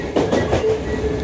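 Train carriage rattling and bouncing along the tracks, a steady rumbling clatter with rhythmic knocks in the first half and a faint squeal, heard from inside the car with no talking.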